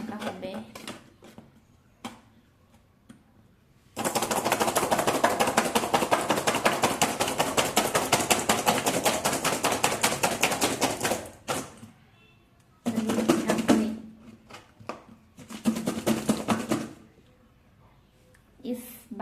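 Guava pieces rattling in a covered container as it is shaken in a long vigorous burst, then two shorter bursts, loud and close, with people talking in the gaps.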